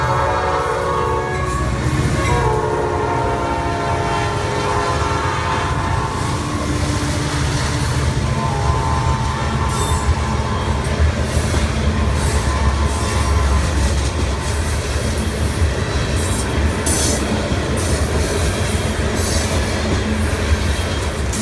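A long Bessemer freight train rumbles past close by in Conneautville, Pennsylvania, wheels clattering steadily over the rails with squeals and a horn sounding, loud throughout.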